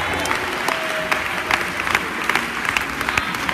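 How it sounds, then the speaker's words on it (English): Church congregation clapping during a sermon, a lively, moderately loud stretch of many hands with distinct individual claps popping out irregularly above the steady patter. "Give a clap of Lord Jesus."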